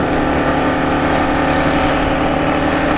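A Kawasaki KLR motorcycle engine labours steadily uphill on a high-altitude Colorado mountain road, a constant loud drone with no breaks or pauses.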